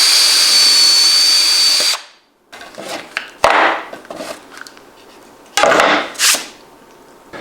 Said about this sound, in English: So I just need to line up the crosshairs inside here and just drill these holes.